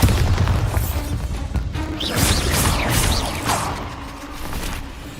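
Bombarda spell explosion in Hogwarts Legacy: a loud booming blast with crashing debris and whooshing magic effects rolling on for several seconds, then gradually settling.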